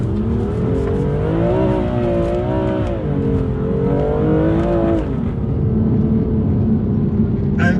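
A BMW M2 Competition engine holds a loud, close, sustained roar, rising and falling in pitch as the throttle is worked through a slide in MDM mode, with a brief tyre or chassis noise near the end.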